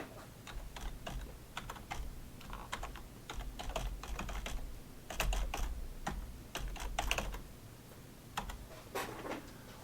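Computer keyboard keys typed in steady bursts of close clicks and taps while login details are entered, with a faint room hum underneath and no talking.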